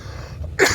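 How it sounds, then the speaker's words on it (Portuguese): A single short cough bursts out near the end after a quiet, low rumbling stretch, close and fairly loud. "eu tô tossindo"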